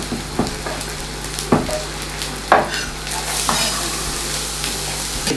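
Onions frying in a pan for a creamy bacon and mushroom pasta, a bright close sizzle punctuated by several distinct scrapes and knocks of stirring, roughly one each second.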